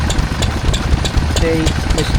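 A small Lister D stationary engine powering a water pump runs steadily at a rural show with a low, rhythmic chugging, close by, with voices talking over it.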